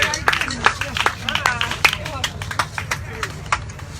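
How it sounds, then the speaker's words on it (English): Audience applauding and cheering at a memorial celebration after a West African drumming and dancing group performs, dense crowd clapping with scattered shouts and murmuring voices throughout. "Please let me have one more round of applause for the Rhythm Monsters and Montclair State University West African Drumming and Dancing Group"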